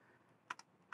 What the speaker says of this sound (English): So I'm using a wireless USB keyboard.